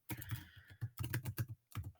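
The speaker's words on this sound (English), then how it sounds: "as I type away, I can fill those in quite quickly" Names typed into a spreadsheet on a computer keyboard: quick bursts of close, crisp key clicks in uneven clusters with short pauses between words, clear and alone.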